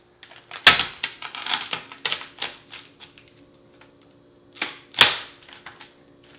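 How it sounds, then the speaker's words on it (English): A slab of chilled peppermint bark on parchment paper cracks apart under a knife, giving a couple of sharp snaps with scattered smaller crackles and scrapes between them, close and fairly loud, with no talking. "And we want to just kind of start breaking it apart."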